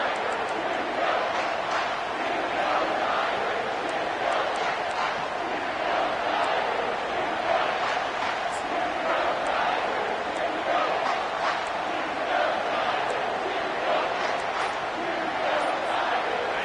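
A packed stadium crowd roars steadily through an LSU versus Texas Tech football game, a dense, continuous wash of cheering and shouting heard from within the stands, with voices talking over it.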